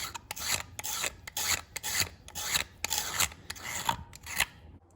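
A utility blade knife scrapes the mounting surface of a mechanical fuel pump on a Chevy 350 engine, producing a close, steady series of short rasping strokes in an irregular rhythm, with no talk.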